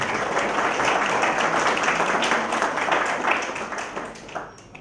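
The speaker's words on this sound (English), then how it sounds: "give our faculty staff and the director a round of applause" Audience applause at a culinary school convocation honoring faculty and staff, a dense, steady round of clapping that holds for about four seconds before thinning out and fading near the end.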